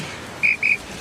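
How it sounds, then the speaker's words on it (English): Two sharp whistle blasts, close and loud, sound one after the other during a military-style training drill where whistle signals give commands to recruits. "3 whistles, stand up."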